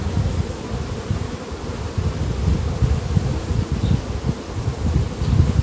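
Honeybees crawling over a recently built hive frame of larval brood, a dense, steady close buzz alone and without talk.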